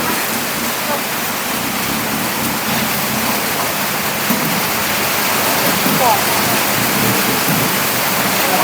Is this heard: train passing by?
no